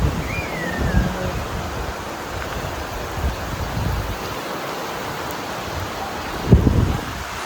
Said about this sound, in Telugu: ఇది వర్షం ఫుల్ ఆన్